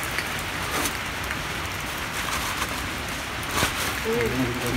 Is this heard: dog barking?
no